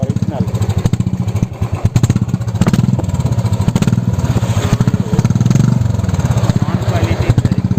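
Royal Enfield Classic 350 BS6 motorcycle fitted with an aftermarket Indori silencer, its exhaust thumping in a steady, loud, close rhythm throughout, with revs rising and falling and a voice speaking over it.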